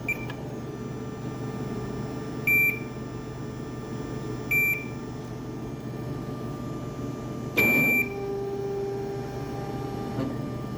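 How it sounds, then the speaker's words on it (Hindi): A serum electrolyte analyzer runs with a low steady hum and a few short electronic beeps, then a brief mechanical whir and click as its probe draws up a blood sample, with no one talking. "ये ऊपर चला गया प्रोब, सैंपल अंदर खींच लिया है इससे।"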